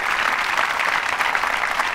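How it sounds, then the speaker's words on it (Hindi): Audience applause at a long-running televised quiz show held at a government women's engineering college in Ajmer, a dense, steady wash of many hands clapping throughout, fairly loud and continuous with no talk over it. "तालियां जोरों से बजा सकते हैं आप"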